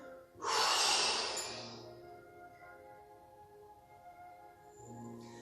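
A single deep, forceful inhale through the nose during a breathing exercise, loud and close at first and then tapering off into quiet, with no talking.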